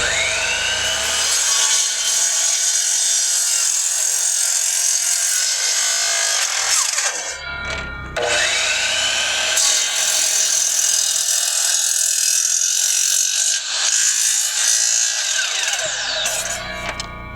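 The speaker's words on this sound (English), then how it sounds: "we'll probably do a first cut on one of those and see how the saw performs" Saw making a first cut through a wooden 4x4 milled from trees, a loud, steady high-pitched cutting whine with two short dips in the middle, close and continuous with no talk.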